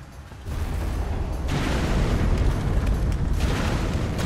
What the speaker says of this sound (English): Now when that falls down, it's going to cause a big explosion.